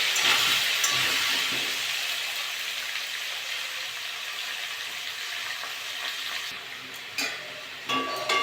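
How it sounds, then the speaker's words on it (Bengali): Potatoes fry in hot oil with a steady, close sizzling hiss that holds throughout, with a few sharper crackles and utensil clinks toward the end. "আলুগুলো ভালো করে ভেজে নেব"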